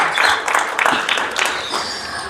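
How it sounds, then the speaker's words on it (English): A round of audience applause for Mr. Geingob at a football cup kit launch event, a moderate burst of clapping that gradually thins out, heard from within the room with some voices mixed in. "Another round of applause, please, for Mr. Geingob."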